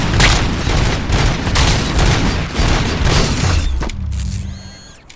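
Rapid bursts of gunfire in the shooter game Robocop Rogue City ring out loud and close, repeated shots and booms stacking into a dense barrage before cutting off into quieter mechanical sounds.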